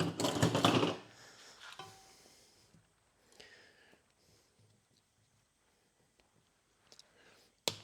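A dead old root is cut from a hollowed wild bottlebrush bonsai during a repot: a loud, crunchy burst of cutting at the start, then faint scattered clicks and handling noises in a quiet setting.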